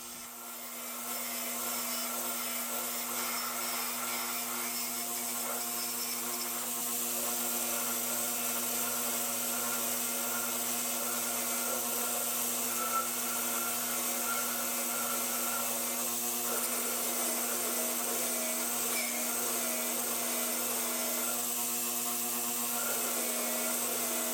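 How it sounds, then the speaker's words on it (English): A very fine wire wheel with 0.006-inch bristles whirs steadily against metal parts, a constant high-pitched grinding drone lasting throughout without pause. "I'm using a very fine wire wheel to clean these parts so that they can be polished later on."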